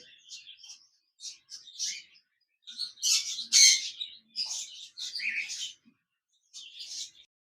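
A pair of cockatiels, one a grey female, chirping and whistling in short, bright bursts, some overlapping, close by with brief quiet gaps between calls.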